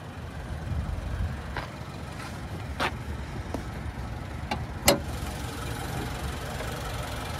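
The 2.7-liter turbocharged four-cylinder of a 2022 GMC Sierra 1500 Pro idles with a low, even rumble, broken by a few light ticks and clicks close by.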